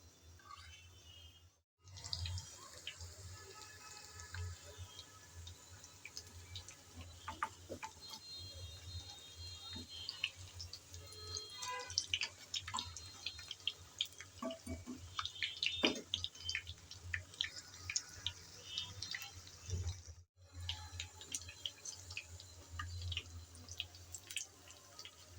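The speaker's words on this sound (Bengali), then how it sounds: "এভাবে লাল লাল করে ভেজে নিতে হবে" Jute leaf fritters deep-frying in hot oil, giving a steady, close crackling sizzle with scattered pops and spits that runs for the whole stretch, dipping briefly twice.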